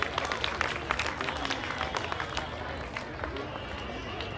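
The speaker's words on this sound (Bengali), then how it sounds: "সবার জন্য একটু জোরে হাততালি।" Audience at an annual cultural day prize announcement bursts into sustained applause, dense clapping from a large crowd filling the space at close range, fading slightly toward the end while a voice speaks faintly underneath.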